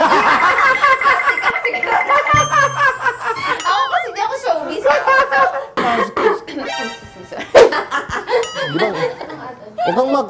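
Coughing breaks out amid laughter and lively talk, with voices chuckling and chattering close by.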